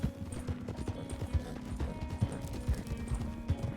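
Horse hooves clip-clop steadily in RedM, a Wild West roleplay game, in a repeated walking rhythm, moderately close, over a low background hum with no voices.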